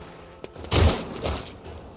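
A burst of gunfire from the video game Warhammer 40,000: Rogue Trader cracks out in a loud close volley, then a second, softer burst follows and fades.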